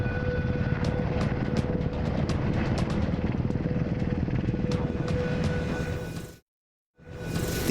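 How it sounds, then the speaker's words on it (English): A helicopter drones steadily with a rhythmic rotor chop and engine whine, holding loud and close before briefly cutting out near the end. "here it is, the ultimate helicopter"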